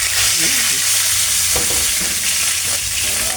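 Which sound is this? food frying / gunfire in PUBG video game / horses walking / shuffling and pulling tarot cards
food frying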